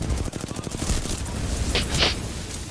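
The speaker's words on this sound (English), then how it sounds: "Shots fired, and they're hitting me." Gunfire from the Apex Legends battle royale video game, a rapid burst of automatic shots followed by a few sharper impacts, heard up close.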